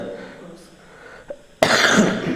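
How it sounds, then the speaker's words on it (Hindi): A short throat-clearing sound is followed by a loud, abrupt cough burst up close, with a faint background murmur. "मेरी खांसी है, लेकिन मेरा जांच हो चुका है।"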